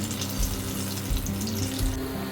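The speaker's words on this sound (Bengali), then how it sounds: "তালের বড়াগুলো উল্টিয়ে পাল্টিয়ে ভালোভাবে ভেজে নেব লাল লাল করে।" Palm fritters (taler bora) made with ripe banana fry in hot oil over a medium gas flame, producing a dense, continuous bubbling hiss with soft low thumps.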